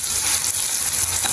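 Chopped onions sauté in a hot pan with green chillies, garlic, curry leaves and fennel seeds for an urad dal curry, giving a close, steady, unbroken sizzle and hiss throughout.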